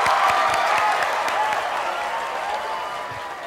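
Studio audience applause on a televised singing competition, a dense, sustained wash of clapping that starts loud and slowly tapers over several seconds, with scattered crowd noise mixed in.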